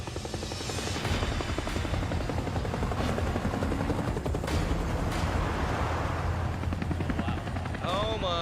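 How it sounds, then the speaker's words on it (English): Two helicopters flying in over the desert give a steady, loud rotor chop throughout, with thumping beats and a rumbling drone, while someone talks over it and a short tonal sweep rises near the end. "in the distance, we come two bloody helicopters and two trucks just driving and flying towards us"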